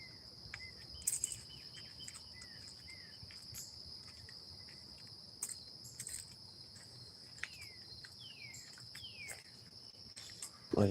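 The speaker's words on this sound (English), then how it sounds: "All you ever hear is crickets." Constant high-pitched cricket chirping fills the night air, steady and continuous, with a few faint bird-like chirps and light rustles.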